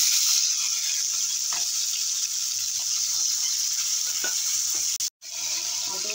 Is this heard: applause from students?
no